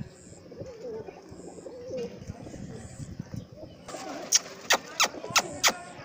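Soft murmuring and rustling lead into a series of five loud, close coos from high-flying pigeons at a steady rhythm.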